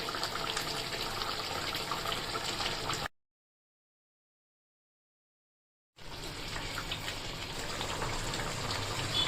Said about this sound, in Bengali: এবারে আমি মাছটাকে একটু ফুটতে দেবো।